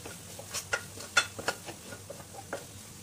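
Moong dal with gram flour and spices being roasted in a kadai over low gas gives soft scraping stirs and faint sizzling, with a few sharper clinks of a spoon against the pan.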